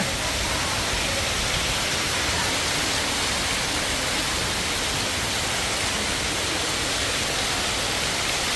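Steady, dense rushing of heavy rain, loud and continuous throughout, with a broad hiss that may carry gusting wind; no voices.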